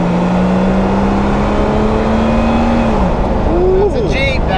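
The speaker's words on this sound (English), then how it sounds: "Test driving in the Jeep." An old Jeep's engine drones steadily inside the cab on a test drive, a loud continuous hum with a shift in pitch near the end and faint background noise.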